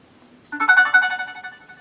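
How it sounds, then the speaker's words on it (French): A phone ringtone suddenly starts up nearby, a bright electronic melody ringing loudly for just over a second with no talking over it. "Désolée, le téléphone."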